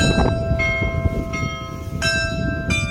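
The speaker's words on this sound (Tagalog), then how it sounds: "Biglang tumunog. Nagulat talaga ako. Tumunog yung batingaw." A church bell rings with several clear, resonant strikes, each leaving a long humming ring over a rumbling, busy background.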